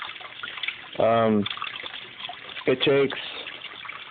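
Water flushes through a small home aquaponic system, a steady gushing trickle running throughout with someone speaking briefly over it twice.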